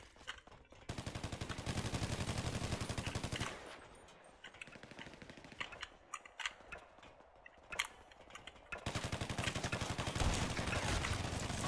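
Rapid automatic gunfire in Grand Theft Auto 5 Online, long loud bursts of dense shots opening and closing the stretch, with sparser scattered single shots and quieter gaps in between.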